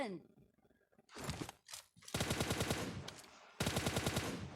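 Automatic gunfire from the mobile battle royale game PUBG Mobile comes in two long, loud rapid bursts after some brief sounds, with a player's voice heard at the start.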